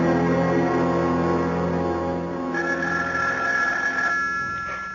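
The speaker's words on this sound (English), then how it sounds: "Do something about that confounded phone." A telephone rings continuously as a sound effect in a 1970s radio mystery drama, a steady loud bell tone that shifts pitch partway through and persists throughout with no talk over it.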